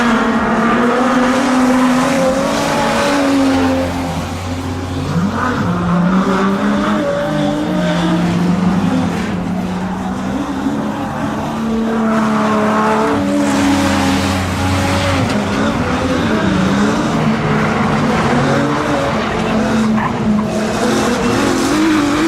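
Street stock race cars battle side by side around the Carina Speedway oval, engines roaring loud and continuous while tires squeal and skid through the turns, the pitch rising and falling as the pack surges, with crowd noise beneath.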